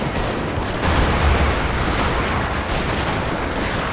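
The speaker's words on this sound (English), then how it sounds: "The artillery's all shelling over as well." Dense, continuous barrage of artillery and gunfire from a Total War game's Battle of Bull Run, with booming low thuds blending into a steady roar of distant shelling and musketry throughout.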